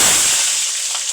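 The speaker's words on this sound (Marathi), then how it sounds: "आता मी तेलात मिरच्या टाकणार." Green chillies drop into hot oil for bhaji, giving a loud, bright burst of sizzling and crackling that settles quickly into a steady hiss.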